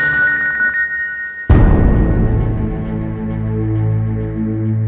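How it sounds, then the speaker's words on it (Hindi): A telephone rings with a bright tonal chime, then a sudden loud crash gives way to a lower sustained musical tone. "घर से फोन आया।"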